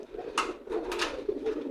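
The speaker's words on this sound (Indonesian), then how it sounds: "Ini merpati yang giring" Racing pigeons coo in their loft, a few soft, close, throaty calls repeating at an uneven pace against quiet room noise.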